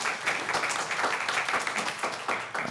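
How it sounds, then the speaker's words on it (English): Warm round of applause from an audience honoring staff members who stand and bow, a moderately sized crowd clapping in a lively, uneven patter that holds steady before tapering slightly. "Give them a nice round of applause."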